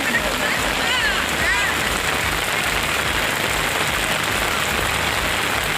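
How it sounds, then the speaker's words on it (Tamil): Heavy rain pours down in Madurai, Tamil Nadu, a dense, steady hiss and patter that holds at a constant loud level throughout, with a few brief chirps near the start. "மதுரை, திருப்பரங்குன்றம், திருமங்கலம் சுற்றுவட்டார பகுதிகளிலும் பலத்த மழை பெய்தது."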